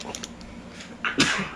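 A single sharp sneeze bursts out near the end, loud and close, following a stretch of faint background noise and muffled movement.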